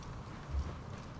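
Horse hooves clip-clop in the Assassin's Creed Origins video game, a few soft low thuds of steps near the middle against a quiet ambient background, no talk.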